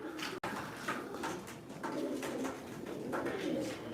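Soft, repeated cooing of pigeons at a fancy-pigeon auction in Ankara fills the scene, a steady murmur of low calls with a faint sharp click near the start.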